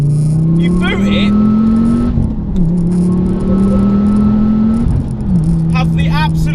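A 400 BHP Ford Focus RS in WRC Michelin trim accelerates hard through the gears, its engine note climbing in pitch and dropping sharply at each of two shifts, loud and close from inside the car.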